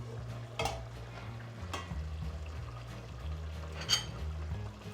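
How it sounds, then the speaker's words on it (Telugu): Pieces of fish curry (chepala pulusu) being turned in a pot, with faint scraping and clinks against the vessel over a low simmering bubble and a few soft knocks. "ఇప్పుడు తిప్పుదాము కర్రీ పీసెస్ని."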